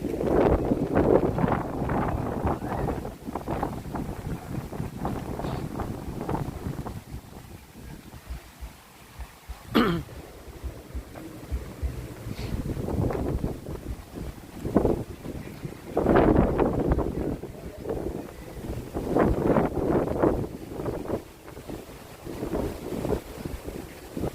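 Strong gusts buffet the microphone beside the Chi River at a long-boat race in Yasothon. Heavy, continuous rumbling wind surges and eases in waves for the whole stretch.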